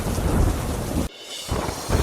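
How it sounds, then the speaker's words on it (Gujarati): Rain pours hard with strong wind while a burst of thunder rumbles, broken by a sudden brief drop before the downpour resumes. "ભારે પવન અને ગાજવીજ સાથે વરસાદી માહોલ"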